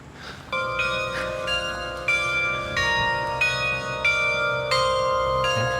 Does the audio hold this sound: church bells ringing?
yes